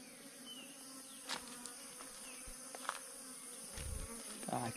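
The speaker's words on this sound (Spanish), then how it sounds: "Tiene una, dos, tres, cuatro, cinco, seis abejas en la espalda." Six bees crawl on a cyclist's back in Iguazú National Park in Argentina, giving a faint continuous insect buzz with a few brief nearer passes over quiet outdoor ambience.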